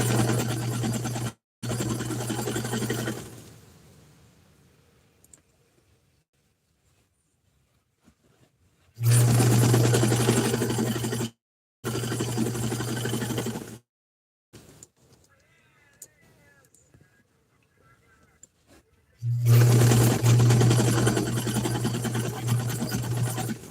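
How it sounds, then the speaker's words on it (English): A sewing machine stitches two bag pieces together in several loud, close bursts of a few seconds each, separated by quiet pauses with faint handling. "Sewing these two pieces together."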